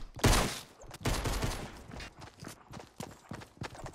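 Opponent gunfire in the video game Fortnite: Battle Royale, a loud opening burst followed by a series of sharp, fairly close shots in an uneven rhythm, with softer pops trailing off.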